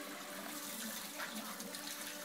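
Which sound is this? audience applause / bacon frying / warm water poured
warm water poured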